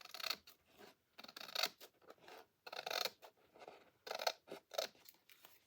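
Scissors snip through a paper index card in a string of short, close, crisp cuts, separated by brief pauses and handling rustles, quiet and with no speech.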